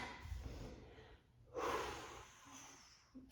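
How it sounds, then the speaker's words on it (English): A person exercising takes loud breaths, first a rough intake, then a long slow exhale that hisses out for over a second, followed by a quieter breath near the end. "Big, long, slow exhales up."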